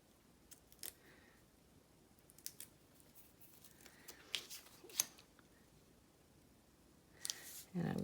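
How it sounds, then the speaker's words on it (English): Paper is cut with scissors during a craft session, giving a few soft, scattered snips and clicks over a quiet background with faint room noise. "And a scissors. Cut another piece."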